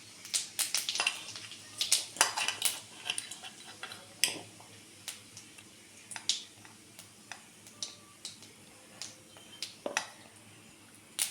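Whole cumin seeds dropped into hot oil for tempering in a Bengali home kitchen, giving quiet scattered pops and crackles, irregular sharp ticks spread across a low hiss, fairly faint and close.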